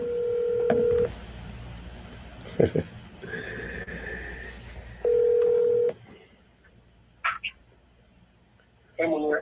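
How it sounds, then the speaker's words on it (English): A telephone sounds in a room, with steady electronic tones in repeated bursts and brief clicks between them, loud and close, while a voice is heard around it. "I didn't see the phone ringing, sir"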